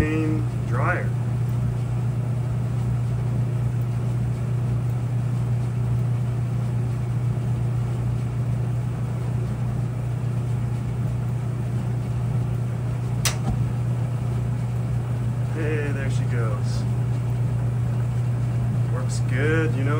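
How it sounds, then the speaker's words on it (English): An off-grid propane clothes dryer roars steadily with a loud, constant low hum and rushing burner noise throughout, while a person talks briefly over it at the start and near the end. "firing up the jet engine propane dryer"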